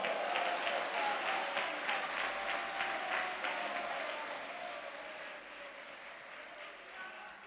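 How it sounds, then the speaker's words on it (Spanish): A church congregation claps through a sermon pause, a dense, even patter of applause that slowly thins and fades, heard at moderate distance. "¿Cuántos pueden darle un fuerte aplauso a Cristo?"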